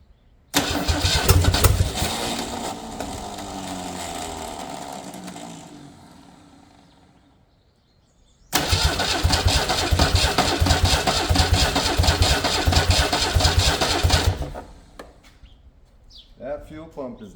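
A seized Ford 300 inline-six engine cranks as someone tries to start it, in two long loud grinding bursts of about eight and six seconds separated by a brief pause, without catching.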